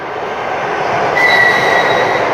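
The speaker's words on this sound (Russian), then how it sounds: "Электричка, которая сейчас проходит, она идет из Москвы экспрессом." An express electric commuter train from Moscow rushes past near Khrapunovo station, a loud close roar of wheels and carriages with a thin high squeal rising partway through.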